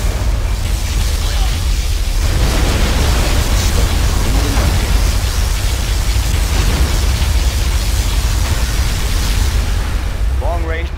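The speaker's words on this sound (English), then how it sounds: "Particle cannon activated." A particle cannon blast from the PC strategy game Command & Conquer Generals Zero Hour, played as the USA Air Force General, roars as a loud, sustained wall of rumbling explosive noise for about eleven seconds.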